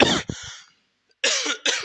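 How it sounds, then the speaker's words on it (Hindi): Two bursts of coughing separated by a short silence, close and fairly loud, the second a quick double cough. "जुखाम है तो खांसी आ रही है"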